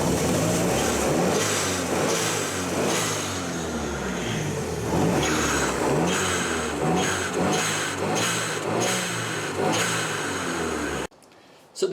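A car engine runs after a turbo flange gasket repair, idling steadily with a series of rhythmic revs up and down, close by, before cutting to near silence at the end.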